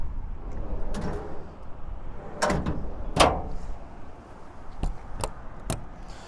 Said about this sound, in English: Pull out drawers on this side, and all the pull out drawers have these tabs that make them easy to lock.